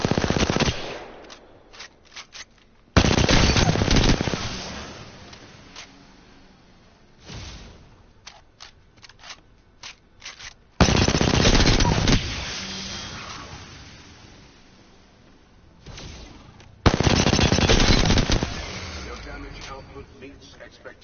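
The Car SMG in the video game Apex Legends fires several rapid full-auto bursts, each a dense loud rattle lasting one to two seconds with gaps in between, and a voice talks in some of the pauses.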